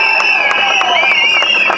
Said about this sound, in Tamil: நல்ல ஒரு கைத்தட்டல தாங்க.